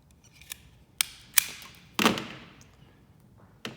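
Sharp snips of cutters biting through a ground wire on a Cremer CF830 tablet counter valve, three or four crisp, separate cuts spaced about a second apart, close and fairly loud, with no talking.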